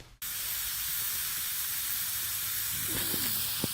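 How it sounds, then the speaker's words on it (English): Steady, loud sizzling hiss of a pork chop and potatoes frying in a pan at a snow camp, continuous throughout with a few faint clinks near the end. "Ooh, sizzle."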